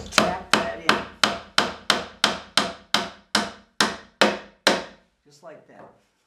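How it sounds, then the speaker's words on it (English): A hammer taps a nail into a wooden nesting box during assembly, about twelve sharp, evenly spaced close knocks with ringing decay, then a brief pause and faint handling sounds. "then you can take your hammer and just tap that in."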